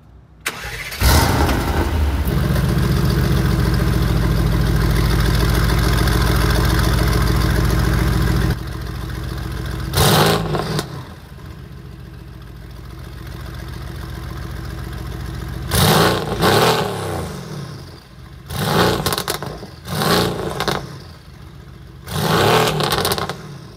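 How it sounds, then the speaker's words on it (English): A Mercedes-AMG GT R with over 800 hp starts warm in comfort mode and settles into a loud, steady idle. After a pause it is switched to race mode and gives several sharp exhaust revs, close and alone. "I'm gonna do a warm start while the car's in comfort mode, and then we'll switch it to the sportiest setting, race, and do a couple revs."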